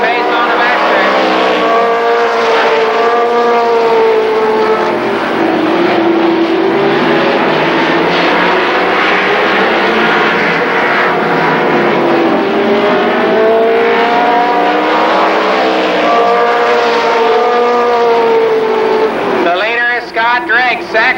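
Race cars roar around Columbus Motor Speedway, engines droning loud and steady for the whole stretch as their pitch rises and falls while they pass. A race announcer talks over the engine noise throughout.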